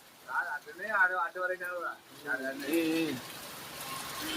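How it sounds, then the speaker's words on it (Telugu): Heavy rain hisses steadily in the background near the Kurnool to Bangalore highway in Dhone, Nandyal district, while a person talks over it. "వాన భలే కురుస్తుంది కదా"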